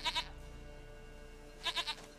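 Two clusters of quavering goat bleats from Princess in The Witcher 3, one at the start and one near the end, each a pulsing tremolo cry over faint steady background ambience.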